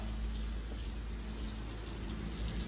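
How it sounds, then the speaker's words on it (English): Water gushing steadily from a deep well through several open faucets at a house in the Philippines, a continuous loud rushing with a low pump-like hum underneath. "I will open a lot of faucets and try to flush what's in the well out"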